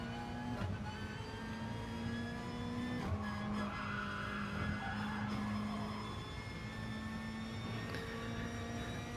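A race car in Gran Turismo Sport drones with a steady engine note that drops as it lifts off the throttle and brakes, then picks up again, loud and continuous.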